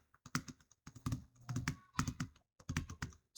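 Clicky keystrokes on a computer keyboard come in quick irregular bursts of several taps with short pauses between them, close and fairly quiet, with no voices.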